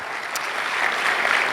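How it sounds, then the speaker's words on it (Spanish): Audience applause at a church service honoring the Lord, a steady, dense wash of clapping filling the space at moderate loudness throughout, with no voices rising above it. "Denle un aplauso al Señor, se merecen esa celebración por los frutos que atraen al Señor."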